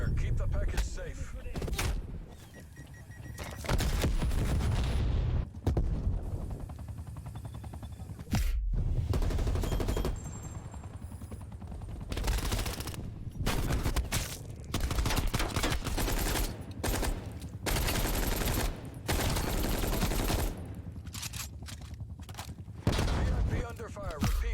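Heavy gunfire from the Call of Duty: Black Ops Cold War video game, with loud sustained automatic bursts and fusillades broken by brief pauses across the whole stretch.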